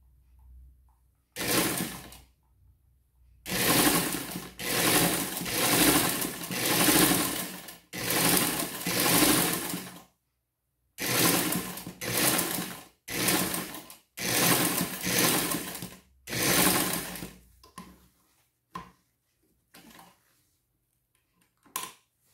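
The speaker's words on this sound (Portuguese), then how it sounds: "agora eu vou lá, vou passar uma costurinha" A home sewing machine stitches fabric for an Easter bag in several loud bursts of rapid whirring, separated by short pauses, ending with fainter intermittent clicks.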